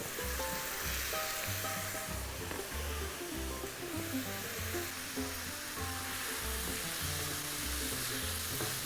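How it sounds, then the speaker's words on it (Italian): Pancetta and onion sizzling in a pan, a steady, dense frying hiss heard close up and continuous throughout, with faint stirring scrapes and no talking. "E ora si mette la pancetta insieme alla cipolla."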